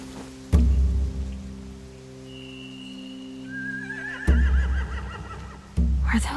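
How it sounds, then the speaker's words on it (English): A horse whinnies in The Walking Dead: The Final Season video game, one clear wavering neigh with a rain-like patter and heavy low thuds around it. "They have horses."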